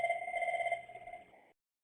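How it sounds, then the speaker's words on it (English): Phone ringing during a Cisco CUCM Mobile Connect test, with a single electronic ring burst of steady tones that stops abruptly after about one and a half seconds and is followed by silence. "Still ringing his mobile."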